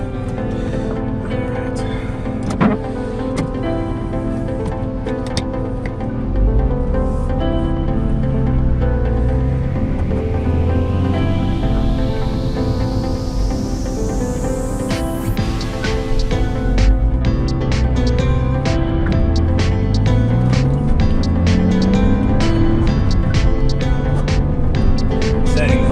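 A Porsche Boxster 986 engine running while the car drives off after a dead battery, a steady loud drone with rising and falling pitch sweeps as it shifts, with people talking over it throughout.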